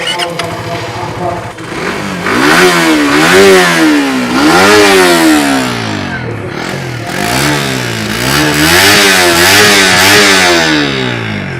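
A Suzuki GSX-R150 sport motorcycle engine revs loud and close, climbing and falling in repeated throttle blips with a short dip in the middle.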